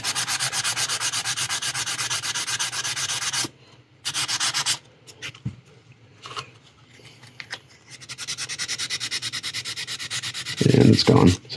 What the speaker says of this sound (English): We'll see if we can sand that out.